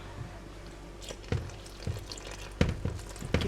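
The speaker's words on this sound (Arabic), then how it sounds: "ممكن اساعدك اصب لك انا ميه؟" Water poured into flour dough for Egyptian feteer: soft wet trickles and squishy kneading thumps at irregular intervals, close and quiet, no talk.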